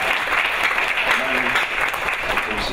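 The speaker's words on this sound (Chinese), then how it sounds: "我们是不是以再一次热烈掌声来邀请我们黄总裁来为我们致辞" Warm, steady audience applause welcoming a company president to speak at a vegetarian food industry event, a continuous dense clapping from a sizeable crowd throughout.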